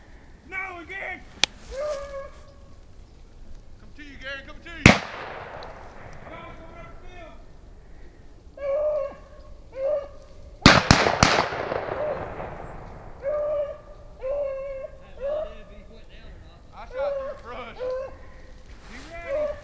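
Two sharp, loud gunshots ring out several seconds apart during a rabbit hunt in North Carolina, each cracking and echoing off, amid hounds baying and people talking nearby.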